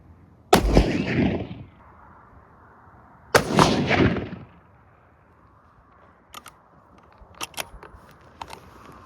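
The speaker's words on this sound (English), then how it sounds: "so I take 2 shots at 50 yards" Two loud rifle shots ring out several seconds apart at a range while a scope is sighted in at 50 yards, each with a rolling echo. Fainter clicks and handling noises follow.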